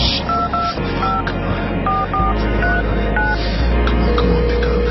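Close, clear touch-tone beeps as a phone number is keyed in, a steady run of short paired tones over a low background hum and rumble.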